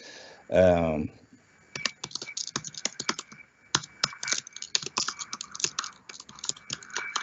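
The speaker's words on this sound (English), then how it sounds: "Please, Valeria, write it on the chat." Someone types on a computer keyboard during an online presentation, with quick irregular clicking keystrokes that follow a brief voice at the start.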